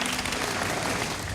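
A brief burst of audience applause at a televised panel discussion, a dense even patter of clapping hands throughout.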